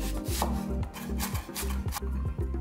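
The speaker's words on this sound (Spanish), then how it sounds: "Vamos a cortar la cebolla" A knife chopping onion on a board for a vegetable tamale filling, quick repeated close cuts with rubbing scrapes in a steady rhythm, clear and uninterrupted by talk.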